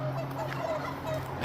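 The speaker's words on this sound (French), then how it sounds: "les poules et les dindes" Turkeys and chickens on a farm give a brief, low fowl gobbling and clucking in the background amid steady outdoor ambience, fairly faint, with a sharper noise at the very end.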